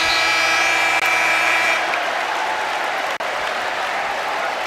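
A basketball arena crowd roars and applauds at a college game between Arkansas and Southern, a dense, loud, sustained wall of cheering that eases slightly partway through.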